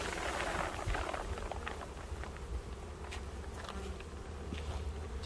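Honeybees buzz thickly around an opened hive during an inspection, with foragers circling in the air. The hum stays near and constant, broken by light handling clicks and rustles.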